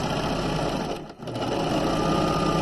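Serger running an over edge stitch along the crotch seam of pajama pants, a fast, even mechanical whir held close with one brief slowdown in the middle.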